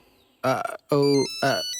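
A telephone rings in a Bhojpuri family drama scene, giving three short tonal bursts with brief gaps between them, heard up close.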